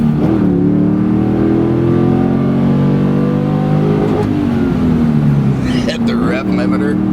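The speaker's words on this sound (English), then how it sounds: "Hit the rev limiter." A 2001 SLP Camaro SS six-speed convertible's engine revs hard and climbs up to the rev limiter, a loud, close, roaring tone that rises and bounces off the limiter near the end.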